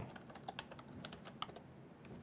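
Quick bursts of typing on a computer keyboard, soft clicking keystrokes in an uneven rhythm, close and quiet with no talk.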